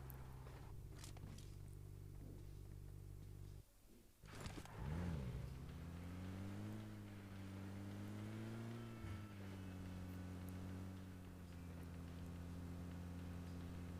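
A car in the video game PUBG drives with a steady low engine drone, dipping briefly then rising again as the vehicle changes pace, with no talk over it.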